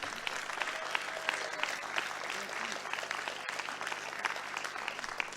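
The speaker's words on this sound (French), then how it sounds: "Et je pense qu'on peut applaudir" Steady audience applause at a French political rally, a dense, continuous wash of clapping with some murmuring voices mixed in, sustained throughout at moderate loudness.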